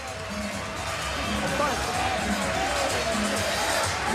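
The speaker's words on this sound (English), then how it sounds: "as this crowd erupts here at the Horseshoe Casino" A boxing crowd at the Horseshoe Casino roars steadily through a fight, a dense, loud wall of cheering and shouting voices with no breaks.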